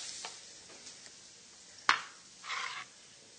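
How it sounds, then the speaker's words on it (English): One clove of garlic sizzling in a couple teaspoons of olive oil in a pan, a faint steady hiss with a single sharp clink and a brief louder burst of sizzling. "Olive oil heating in a pan, just a couple teaspoons. And we want 1 clove of garlic in there."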